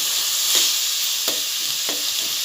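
A spoon stirs melted jaggery with cardamom powder in a pan for coconut churan, giving a steady soft sizzle with a few brief scraping strokes, close and moderately quiet.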